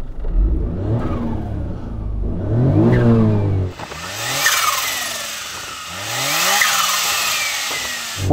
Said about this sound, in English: Let's have a listen to your exciting micro coupe.